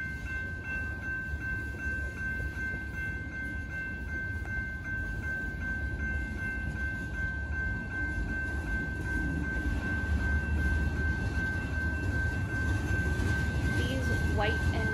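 A freight train with tank cars and lumber loads rumbles past a level crossing steadily, a continuous low roar of wheels on rails with a faint high ringing tone throughout.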